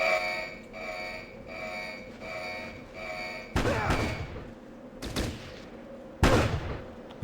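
Gunfire in the squad tactics game Fallout Tactics: Brotherhood of Steel, with three sharp broadband shots or bursts cracking out over a steady droning, tonal background, each loud and followed by a short decaying tail.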